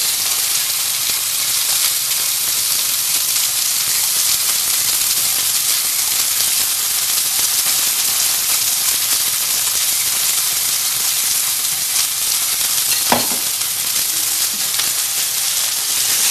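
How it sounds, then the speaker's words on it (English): Beef for beef and broccoli, coated with cornstarch, sears untouched in a hot pan, giving a steady, loud broadband sizzle that holds for the whole stretch, with one brief clink near the end. "it's good to let it just cook and look at how it caramelizes"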